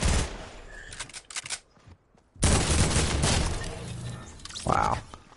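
Bursts of rapid gunfire in a Fortnite match, loud and close, broken by a brief near-silent gap before a second sustained volley.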